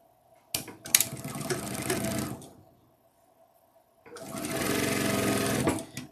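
A domestic sewing machine stitching a seam runs in two bursts of rapid, steady mechanical whirring and clatter, close and fairly loud, with a quiet pause between and a few clicks at the start.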